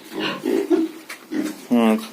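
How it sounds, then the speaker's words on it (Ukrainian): Piglets about 80 days old grunt in short, low, throaty bursts, including a louder buzzy grunt near the end, mixed with a person talking close by. "Ось ну, такі поросятка, всі теж живенькі, всі хороші."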